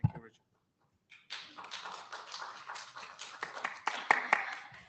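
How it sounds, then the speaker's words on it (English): Scattered hand clapping comes through over an online meeting connection, a faint, uneven patter of claps after a brief tap and a short pause, with a voice heard at the very start. "I don't know where this clapping comes from these days"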